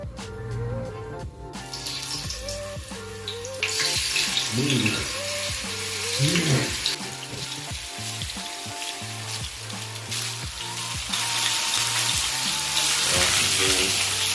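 Tofu frying in hot oil for a spicy chili-powder snack gives off a steady, fairly loud sizzle that runs through the whole stretch, along with scattered kitchen clatter.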